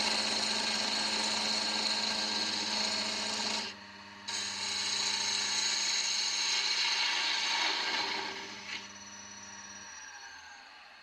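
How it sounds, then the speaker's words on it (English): A wood lathe trims the face of a Cocobolo box top held in the chuck, giving a steady rasping cut over a motor hum. The cut pauses briefly partway through, resumes, then thins out and fades near the end. "mount the top in the chuck and trim the face."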